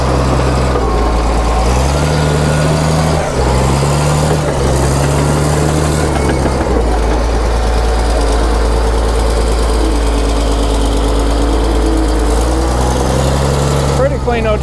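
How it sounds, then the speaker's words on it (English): An old Caterpillar D6D dozer diesel engine idles loud and close, a steady low rumble with shifting throb and slight rises in pitch, running continuously throughout. "Dad's got an old D6D fired up."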